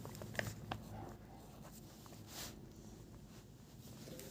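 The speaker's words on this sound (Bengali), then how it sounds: "ত্রিভুজটা আগে এঁকে নিচ্ছি" Pencil drawing a triangle on paper: soft, quiet scratching strokes with a few short taps, close and faint, with no talking.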